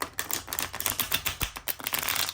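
A mini tarot deck with good cardstock being shuffled up close, giving a rapid, continuous riffle of crisp card flutters and slaps.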